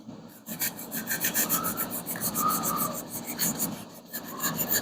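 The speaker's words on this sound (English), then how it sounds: "Now slightly sand here." A hand sanding block rubbed over the body of a Hemi Plymouth Duster under construction, a close, loud, rhythmic rasping of back-and-forth strokes that runs steadily with brief pauses.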